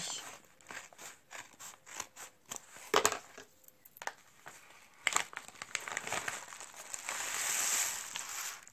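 Scissors snip open a paper envelope of mail, a run of short crisp cuts with paper crinkling and rustling as it is handled, close and fairly quiet with no talk.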